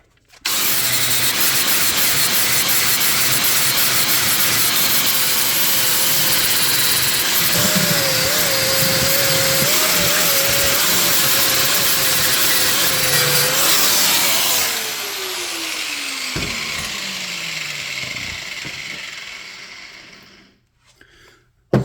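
Angle grinder cutting and grinding down welded steel brackets on a Gen 1 Raptor rear shock mount, a loud continuous scream with a wavering whine that winds down and stops near the end.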